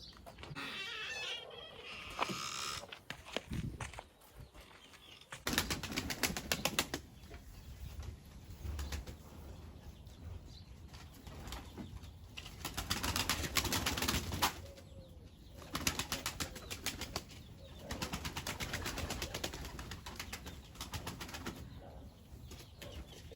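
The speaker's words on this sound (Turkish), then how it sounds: "Ardından da gidip yavru güvercinlerimizi uçuralım." Young pigeons taking off and flying from a loft, with bursts of flapping wings and soft cooing over steady outdoor background noise, busy and fairly loud throughout.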